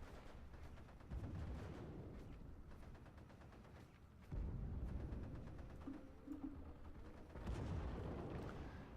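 Distant artillery and gunfire rumble in the World War II strategy game Steel Division: Normandy 1944, with repeated booming bursts and rattling fire at low volume, no speech.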